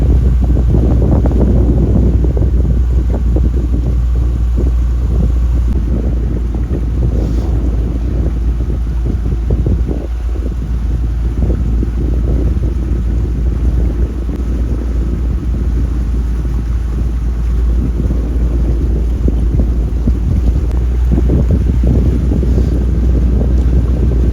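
A boat cruises the backwaters near Thanneermukkam Bund, its engine a constant low rumble beneath heavy wind buffeting across the microphone, loud and unbroken throughout.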